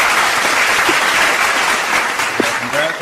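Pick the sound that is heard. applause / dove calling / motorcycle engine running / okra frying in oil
applause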